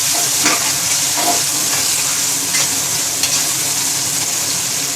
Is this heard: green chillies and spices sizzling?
yes